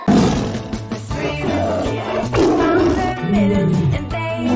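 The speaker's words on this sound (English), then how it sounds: "T for tiger." A tiger roars loudly and close in a children's phonics nursery song, with several long, rough, rumbling roars carrying over music.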